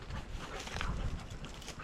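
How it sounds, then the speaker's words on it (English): Bearded Collies play outdoors on a woodland walk, with soft scuffling, panting and quick footfalls on the ground, faint and close, with no voices. "That's the dogs playing"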